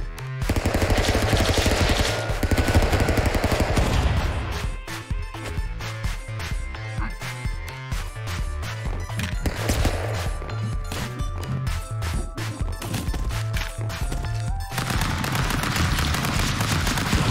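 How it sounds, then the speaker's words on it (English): Video game firefight with dense bursts of gunfire, rapid automatic shots and heavy impacts packed together, loud and continuous with brief lulls, no talking. "There was a firefight."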